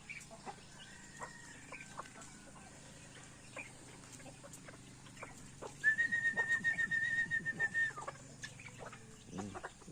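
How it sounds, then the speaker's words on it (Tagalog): Chickens cluck and chatter nearby amid outdoor ambience, with a burst of rapid clucking in the middle and a few bird whistles. "Ayan, ang ating mga manok."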